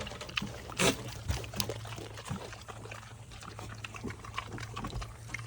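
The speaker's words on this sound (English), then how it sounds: "Here's our little piggies" Pigs at an animal sanctuary grunting softly at close range, short scattered snorts over a steady outdoor background with no talking.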